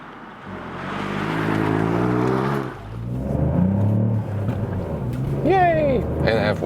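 A Ford Puma ST engine pulling in second gear with the window down in a tunnel, droning and rising in pitch as it accelerates, then easing off under someone talking.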